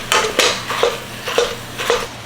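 Ground beef and sausage get broken up in a pan on a hot plate, with a run of five or six fairly close, rhythmic scraping knocks of a utensil against the pan over a faint background.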